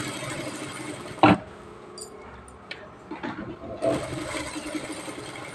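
A sewing machine stitching a blouse, with short bursts of needle whirring and mechanical ticking separated by quiet pauses as the fabric is turned at the corners.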